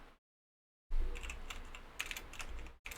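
Computer keyboard typing starts after a brief silence, a close run of quick irregular key clicks with a few louder taps, and no voices.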